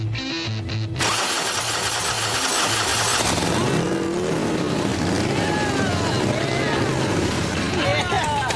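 A freshly assembled motorcycle engine on a wheelie-bike build catches after a short crank and settles into a loud, steady running drone with revs rising, close by and continuous for several seconds.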